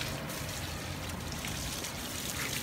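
Water sprays steadily over an outdoor AC unit as it is washed, a continuous faint hiss and trickle with no breaks.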